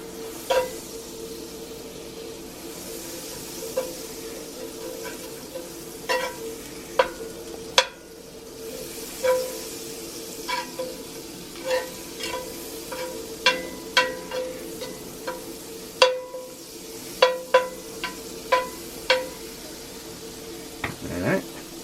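A big knob of butter sizzles in a cast iron pan with a soft, constant hiss, broken by many sharp, irregular taps and clicks that grow more frequent toward the end.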